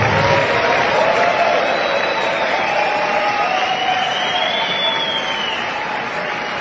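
Sustained crowd applause with cheering from a standing audience at a Brazilian public event honoring minister Paulo Guedes, a dense, steady wash of clapping and whoops that continues throughout without letting up.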